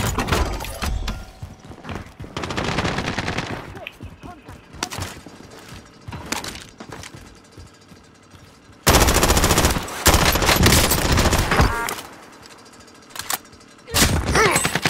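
Gunfire in the video game Call of Duty: Modern Warfare, loud rattling bursts of automatic fire in long stretches with brief gaps and some single shots, dense and close throughout.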